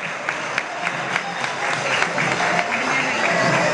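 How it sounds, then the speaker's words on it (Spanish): A festival crowd at a crab and seafood celebration in Montijo claps for a few seconds, individual claps audible within a moderate, building round of applause. "Un aplauso para la profesora."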